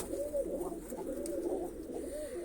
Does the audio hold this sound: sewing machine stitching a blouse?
no